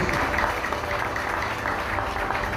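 A church congregation claps together during a sermon, a dense continuous roar of applause from a large crowd that holds steady and strong throughout.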